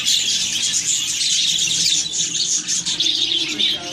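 Two nearly grown budgie chicks in the nest give continuous high, squeaky chirps and begging calls, close by and fairly loud.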